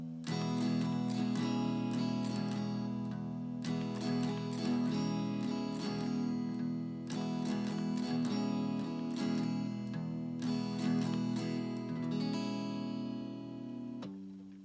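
Guitar strums the intro chords of a song, bright repeated chord strokes in phrases separated by brief pauses, sounding close and clean with no voice over it.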